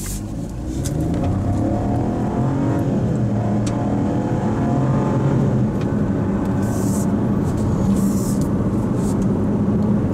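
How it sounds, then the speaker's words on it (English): 2024 Buick Envista Avenir with a turbocharged three-cylinder accelerates hard, its engine drone and road noise steady and close from inside the car, with a few faint clicks and no talking. "We're going to check and see how fast we can get this thing up to, this turbocharged three cylinder."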